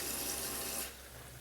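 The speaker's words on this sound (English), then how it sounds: "Kill the water, then turn it back on, let everything wash right down straight into it." Rushing water pours steadily and close, washing material down a gold recovery table into a container, then the flow drops to a softer trickle near the end.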